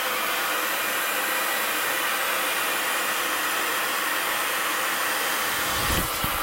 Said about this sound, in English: Get that base nice and dry